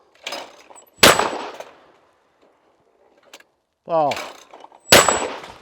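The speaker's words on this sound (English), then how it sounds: "when the gun goes bang" A Caesar Guerini Summit Ascent shotgun fires at clays with two loud, sharp blasts a few seconds apart, each ringing briefly. Between the shots someone shouts a short call outdoors.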